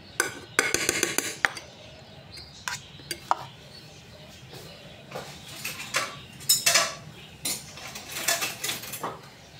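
Chicken being mixed with zaatar, salt, black pepper and olive oil, with a utensil clinking and scraping against a bowl in irregular bursts, close and clear, with no voices.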